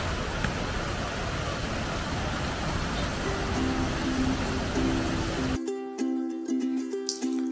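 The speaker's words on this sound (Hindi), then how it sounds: "हमारे सामने स्रोते का पानी या झरने का पानी ऊपर से नीचे गिर रहा है, जिसको हम वाटरफॉल कह देते हैं" A natural waterfall in the jungle at Jibhi, its water dropping from above, makes a loud, steady broadband rush. Near the end a sustained tonal hum or music comes in over the flow as the rushing noise thins out.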